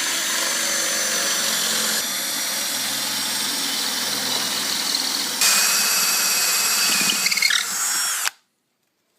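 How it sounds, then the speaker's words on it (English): A power drill driver with a square drive bit whines at high speed, holding a steady pitch, briefly surging louder near the end before cutting off abruptly into silence. "Bring the drill up to speed."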